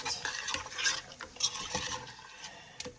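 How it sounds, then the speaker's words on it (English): A spoon stirs a chicken 65 sauce mixture in a pan, giving close, busy scraping and light clinks against a soft wet sizzle. "And I will just mix it well, just like that."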